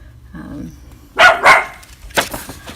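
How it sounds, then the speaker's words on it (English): A dog barks close by, two quick barks in a row followed by another short burst, with a faint low murmur before them. "And that is my dog Buster."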